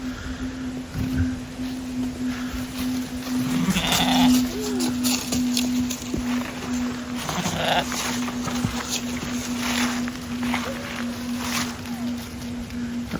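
Sheep bleat intermittently outdoors on a cold, snowy morning over a steady low engine-like hum, with a few separate calls spread across the clip.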